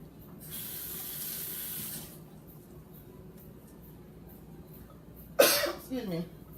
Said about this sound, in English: let me wash my spatula here.